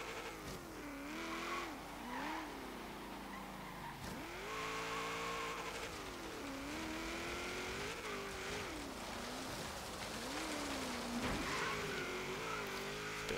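A 1945 Jeep Willys MB races an autocross course in Forza Horizon 3, its engine droning loud and steady with pitch rising and dropping through repeated gear shifts, and tires squealing in the corners.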